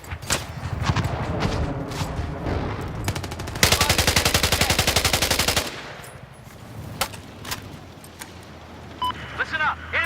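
Sustained burst of M1 Abrams tank machine gun fire in Battlefield 4, a loud rapid rattle lasting about two seconds, framed by scattered single shots, engine rumble and in-game voices.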